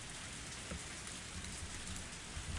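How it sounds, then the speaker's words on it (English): Steady rain falls in a visual novel game scene, a dense, even wash of drops hissing across the surface throughout, fairly close and unbroken, with no voices over it. "It was raining."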